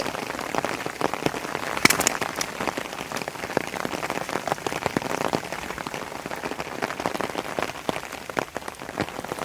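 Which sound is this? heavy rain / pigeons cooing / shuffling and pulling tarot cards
heavy rain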